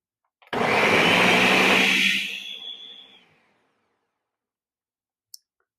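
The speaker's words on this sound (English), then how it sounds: "A pretty powerful blender." A powerful kitchen blender starts abruptly and whirs loudly at full speed for about a second and a half, then winds down and fades out, followed by a single faint click.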